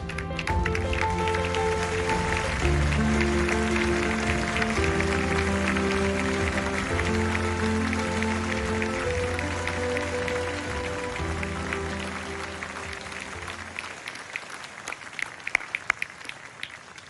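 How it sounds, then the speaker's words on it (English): An audience at an award ceremony honouring award recipients applauds in a sustained, dense wash of clapping over steady stage music, fading slightly toward the end. "one final round of applause to all of tonight's honorees"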